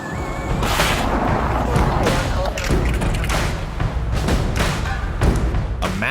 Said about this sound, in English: A massive explosion erupted while fighting a garbage truck fire in a residential neighborhood in Illinois